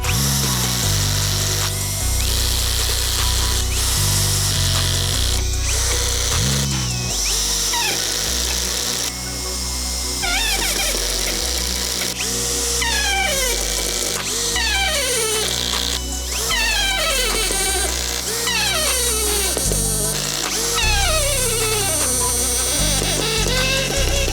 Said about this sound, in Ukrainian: вмикаю першу швидкість, ставлю перше положення тріскачки і закручую соті шурупи в деревину